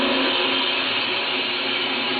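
A band saw in a workshop runs with a steady, loud motor whir and blade hum that holds even and unbroken throughout, with no voices.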